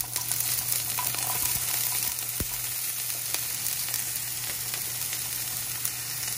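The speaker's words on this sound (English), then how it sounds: "get those in there and let them sizzle a little bit, but keep them moving in the pan so that they don't burn" Chopped green onions sizzle steadily in a frying pan for curry, a constant even crackle with no talking.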